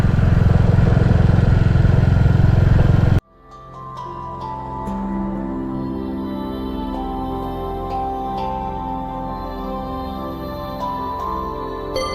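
A vehicle drives through tiny villages. Loud rushing road and wind noise cuts off after about three seconds, leaving a steady, droning engine hum with faint clicks and rattles.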